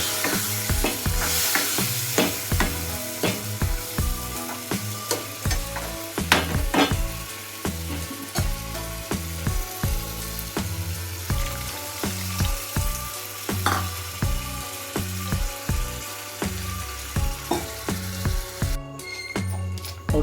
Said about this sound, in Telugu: ఫ్రెండ్స్ మంచిగా ఉడుకుతుంది కదా